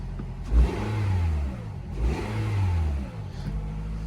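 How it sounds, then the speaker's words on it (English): A 2018 Toyota RAV4 Limited engine cranks and catches via push-button start, then revs up twice in rising, swelling bursts before settling, close and fairly loud. "press the engine start button to fire up the engine."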